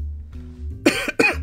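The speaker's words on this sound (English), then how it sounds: "Pardon the cough." Two short, sharp coughs close to the microphone in a quiet room, the second following quickly after the first.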